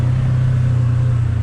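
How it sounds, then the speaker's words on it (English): ATV mag wheels rumbling while riding at an ATV park, a steady loud low droning roar with no pauses. "She's worried about a little mag wheel sound, guys."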